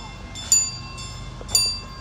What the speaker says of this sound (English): It sounds like we've got a train coming through. Awesome, the train is running.